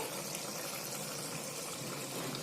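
Hot water is poured into a pot of mutton curry with potatoes, giving a continuous, even rushing splash of liquid that stays steady and fairly soft throughout.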